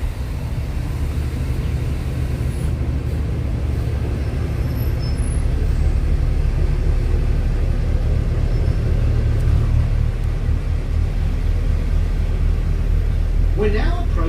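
Steady low engine rumble and road drone from inside a moving city bus in Darwin, constant and fairly loud, with a brief higher squeal near the end.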